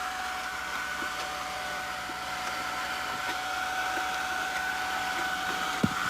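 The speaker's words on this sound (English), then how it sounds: "You ready for the hair dryer?" A steady, even whirring hum of a hair dryer blowing continuously at close range, with one brief click near the end.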